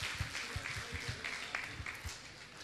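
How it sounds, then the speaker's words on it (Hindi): Applause from a seated audience at a Jain religious discourse gathering, a faint, steady wash of clapping throughout with scattered louder individual claps. "एक बार आप इनके सम्मान में तालियां बजा दीजिए"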